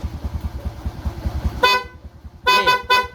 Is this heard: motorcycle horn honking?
yes